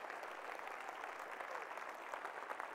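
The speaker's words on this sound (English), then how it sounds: "Give him a hand clap of praise." A church congregation claps hands in praise, a steady, dense wash of many hands heard at a distance and faint, with no clear voices on top.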